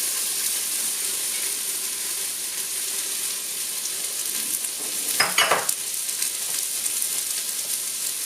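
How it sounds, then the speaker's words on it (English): About two tablespoons of butter melting in a pan before onions go in for a chicken gizzard curry: a steady close sizzle throughout, swelling into a louder, crackling burst near the end as food hits the fat. "I added about 2 tablespoons of butter that's melting right now"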